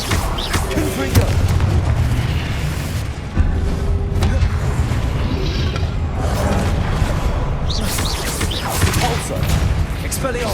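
Confringo fire spells in the Hogwarts Legacy video game, a run of heavy booming blasts and crackling bursts that overlap densely through the stretch alongside game effects.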